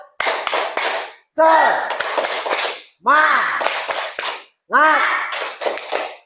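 A classroom group performs a rhythmic cheer clap in bursts of sharp, loud claps, each burst answered by a crowd shouting the cheer together, repeated four times with short pauses between.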